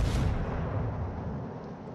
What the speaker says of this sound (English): Joe takes a shot here on the battleship